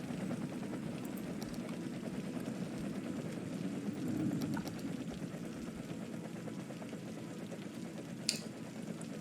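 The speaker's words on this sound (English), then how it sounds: "and if we can follow this helicopter." Helicopter flying in the city-building video game Cities Skylines, a steady low whirring drone with faint rotor texture and a few small clicks, heard alone without talk.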